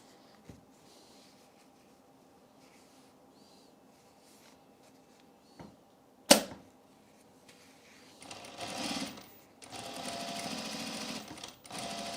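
After a quiet stretch with a few taps and one sharp click, a sewing machine starts stitching near the end and runs in a steady, moderately loud burst.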